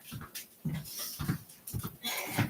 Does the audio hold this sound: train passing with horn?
no